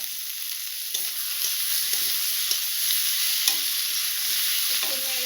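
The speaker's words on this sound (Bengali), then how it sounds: "এখন আমি ভেজে রাখা আলু আর মাশরুমটা দিয়ে দেব।" Fried potatoes and mushrooms being stirred into a loud, steady sizzle of spice mix in a hot pan, with the utensil scraping and knocking against the pan several times, close and continuous with no voices.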